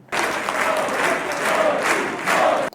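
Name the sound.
applause and chanting in Israeli parliament for Modi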